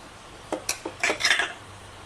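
Shallots and garlic are sautéed and stirred in a pan while fish is cooked for grilling, heard as a short run of close metal utensil clinks and scrapes against the pan over a quiet background.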